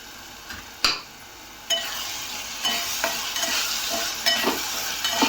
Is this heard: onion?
yes